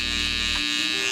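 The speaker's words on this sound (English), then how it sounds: "we're gonna use a shaver" Close, steady electric shaver buzz while cutting curly hair on the lower sides of a self-cut drop fade, continuous throughout with a slight shift in tone partway.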